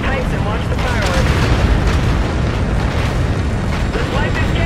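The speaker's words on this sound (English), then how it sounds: "On that tower detonation." A tower detonation in the Call of Duty: Infinite Warfare campaign on PS4 Pro, a loud sustained roar of explosive rumble and crackling debris filling the whole stretch, with voices underneath.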